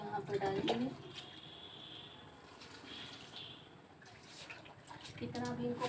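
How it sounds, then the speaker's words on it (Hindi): Water pours quietly from a bucket onto garden plants in a soft, continuous splash and trickle, with a voice heard briefly at the start and the end. "भर गया था तो एक एक पौधे में पानी यहाँ पर डाल देंगे।"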